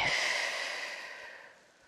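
A slow, gentle exhale during a tai chi breathing exercise, a soft breathy rush that fades steadily over about two seconds, close and quiet with no talking.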